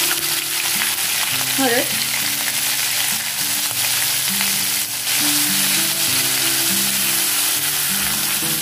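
Cumin, asafoetida, curry leaves and peanuts crackle and sizzle steadily in hot oil for a Marathi tempering, a dense close hiss with a brief spoken word early on.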